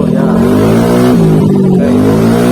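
A motorcycle fitted with an Akrapovic exhaust revs in a sustained, loud, deep drone close by, pitch wavering slightly as the throttle is held.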